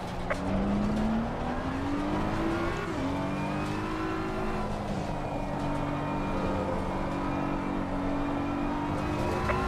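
A BMW M4 GT3 race car in Assetto Corsa Competizione with a loud, continuous engine drone rising and shifting through gears on track, with faint tire noise, no voices.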